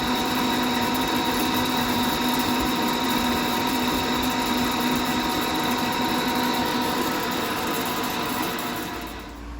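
A lathe runs a burnishing pass at 350 RPM with coolant flowing, a steady loud machine drone with constant tonal whine and hiss throughout, tapering slightly at the very end.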